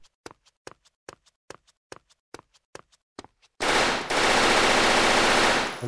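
Rifle fire in the video game SCP: Recontainment: a run of sharp, evenly spaced single cracks, then a loud, sustained burst of rapid automatic fire that fills the rest of the clip, close and with no talking.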